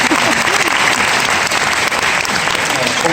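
A church lecture audience breaks into loud, dense applause, steady and close, with faint murmuring mixed into the clapping.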